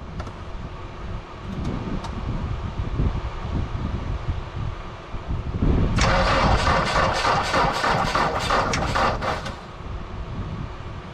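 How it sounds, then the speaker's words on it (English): An old tractor engine cranks and catches, then revs harder as the throttle opens, giving a loud rhythmic chugging before settling back to a steadier run. "Now give her throttle, Johnny, at the same time."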